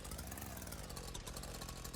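A dirtbike engine in a VR riding game, shifted into first gear, runs as a steady, loud, continuous drone throughout with no talking.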